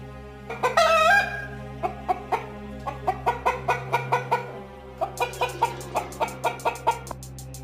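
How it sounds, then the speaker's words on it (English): A rooster crows near the start, then a hen clucks in quick rhythmic bursts, with a brief pause midway before the clucking resumes in a faster run, all close and clear. "Hen."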